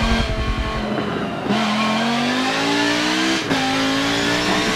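A race car in Forza Motorsport 7 roars steadily close up, its engine note dipping on gear shifts and then climbing again as it accelerates, with no talk over it.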